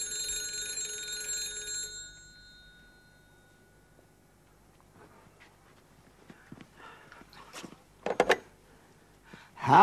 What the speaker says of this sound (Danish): At dette er telefonen i Mr. Bellamys hjem.